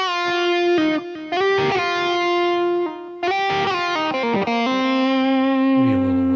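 An electric guitar played through a Spark amp with high gain distortion and the guitar volume about halfway, sustained distorted notes and chord changes with a brief gap, ringing alone and loud.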